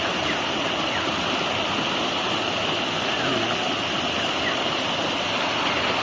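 Rushing river water roars continuously and loudly nearby, a steady broadband wash with no pauses.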